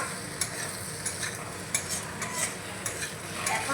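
Potato and capsicum with amchur powder are stirred in a pan, with rhythmic spatula scrapes and taps over a steady sizzle, close and without voices.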